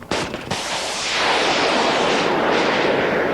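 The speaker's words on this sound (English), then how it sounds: "To take out that building, the Marines launched a Javelin-guided missile." A Javelin guided anti-tank missile strikes a building in a war zone in Iraq: a sharp blast at the start followed by a long, loud rumbling roar that sustains and swells without fading, distant and heavy, with no speech.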